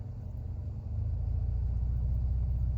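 Mercedes-AMG A35 engine idling at a steady low rumble near 700 RPM, close up and continuous, growing slightly louder after the first second with no voices.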